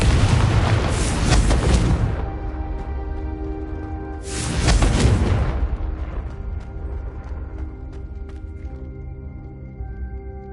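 Two heavy explosions from the Confringo fire spell in Hogwarts Legacy land a couple of seconds apart, each a loud, close boom with a rumbling tail that rings out and decays. No one speaks.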